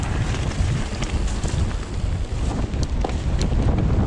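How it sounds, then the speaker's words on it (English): Strong wind buffets a microphone outdoors on a South Wales mountain bike trail with big jumps, a steady, loud roar and rumble filling the whole clip with no talk. "Where's that wind come from?"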